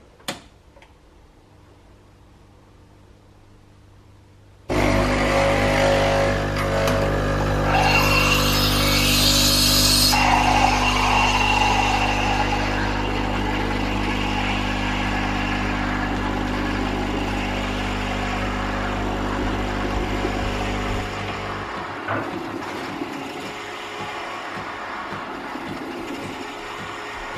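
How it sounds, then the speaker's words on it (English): Two Nespresso Creatista coffee machines, one a Creatista Pro, brew cappuccino side by side, starting with a sudden loud pump hum and rattling buzz that runs steadily, some added hissing partway through, before the pumping stops and quieter clicks follow. "So each of the machines have finished dispensing the coffee."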